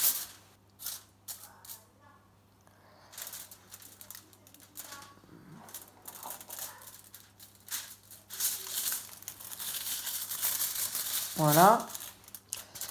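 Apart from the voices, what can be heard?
cutting material for a pottery barn model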